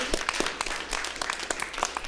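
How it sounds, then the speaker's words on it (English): A live studio audience at a headline challenge show gives a fairly faint round of applause, with scattered individual claps audible in a brief, steady patter. "Let's give them a round of applause"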